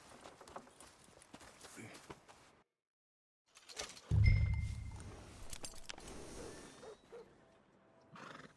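Horse neighing in the western game Red Dead Redemption 2, a loud close whinny after a short silence, with hoof clops and shuffling around it.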